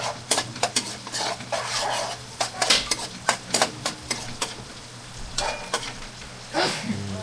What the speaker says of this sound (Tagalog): Para habang nagpapainit ng butter, lumalabas na rin yung katas ng sibuyas. Saute.